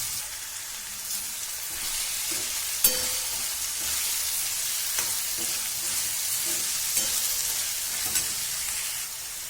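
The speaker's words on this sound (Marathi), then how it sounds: "आपली चिरलेली पालकाची भाजी घालून द्यायची स्वच्छ धुतलेली असते ना ती छान ही पटकन गळू होते पालकाची भाजी चांगली अशी खालून हलवायची" Chopped spinach frying in a pan, with a continuous loud sizzle and a few soft clicks and scrapes as it is stirred.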